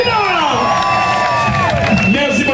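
A Mardi Gras parade crowd in Basse-Terre cheers and whoops loudly. Shouts and children's voices mix with scattered applause in a dense, close, continuous roar.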